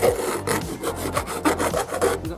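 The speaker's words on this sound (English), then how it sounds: "Just filing it so it's not sharp." A metal file is drawn repeatedly across a sharp edge in brisk, evenly spaced strokes, close and fairly loud, each stroke giving a dry rasping scrape.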